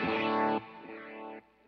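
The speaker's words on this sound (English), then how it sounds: "I have a glitz reverb that's sort of subtle when it's off." An electric guitar played through a Line 6 POD Go with a subtle glitz reverb rings out as a bright, sustained chord that drops in level halfway, then fades into a faint shimmering tail.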